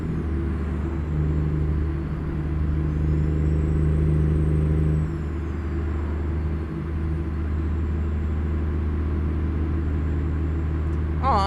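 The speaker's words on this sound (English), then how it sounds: "Like I like the Jake brakes on this one." Truck Jake brake engine braking in American Truck Simulator, a deep steady low rumble with a droning tone that drops away midway, continuous and fairly subdued with no talk over it.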